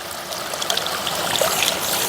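Water trickles and splashes steadily from a broken pipe onto a cup being washed beneath it, close and fairly loud, a continuous bright flow with no talk.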